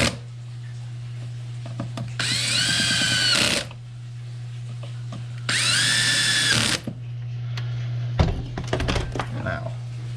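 A power drill driving a screw into a Porter-Cable battery charger during a repair, in two whining bursts of a couple of seconds each, close and loud, then some clunks and handling knocks, all over a constant hum.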